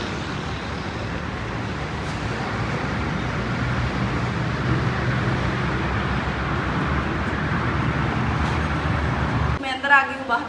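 City street traffic outside a hotel, a dense steady roar of passing vehicles heard close, with someone talking over it before the noise cuts off abruptly near the end.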